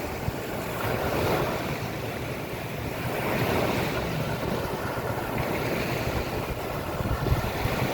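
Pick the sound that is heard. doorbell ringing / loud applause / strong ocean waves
strong ocean waves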